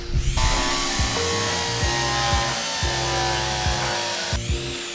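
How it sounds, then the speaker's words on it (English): A loud drill runs steadily in the train simulation game Derail Valley, a continuous whirring grind with rhythmic pulsing in the low end that starts and stops abruptly, with no talk. "Oh yeah, wait, it's loud. Sorry. Drill warning."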